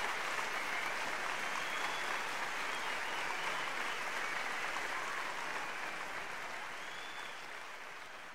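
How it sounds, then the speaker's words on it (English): Sustained crowd applause at an NBA 2K20 Hall of Fame induction speech, steady dense clapping throughout that eases off slightly toward the end, with no voices over it. "Can we get a round of applause for my parents here?"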